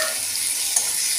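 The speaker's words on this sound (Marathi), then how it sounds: "आता मी हे टमाटर टाकून देते" Chopped tomato dropped into a pan of browning onions for paneer bhurji, giving a steady bright sizzle of frying with a faint scrape of stirring partway through, no talking.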